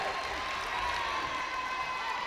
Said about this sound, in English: Part of our crowd there, happy about that.